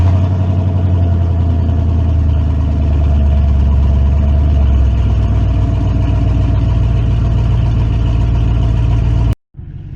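An old Ford crew cab truck engine turns over continuously, a loud, steady low rumbling churn with a rhythmic pulse, running near and unbroken for nine seconds before cutting off abruptly, then resuming.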